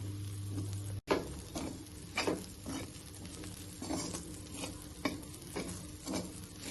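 Moringa leaves and lentils being sautéed in a pan, with repeated stirring scrapes over a soft, steady sizzle, close and fairly quiet with no talking.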